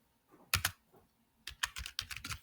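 Keys clatter on a computer keyboard as HTML and CSS code is typed, starting with a quick double tap, then a denser run of crisp close clicks after a brief pause, with no voices.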